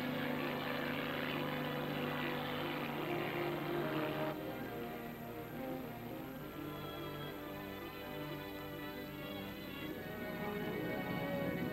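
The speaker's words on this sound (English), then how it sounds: "drones start into the radioactive cloud to gather air samples" Drone aircraft droning with propeller engines fly toward a radioactive atomic test cloud to gather air samples, a continuous buzzing hum that holds steady throughout, with a shift in tone partway through.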